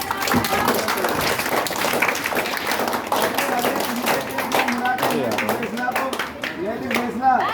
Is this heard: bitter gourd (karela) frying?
no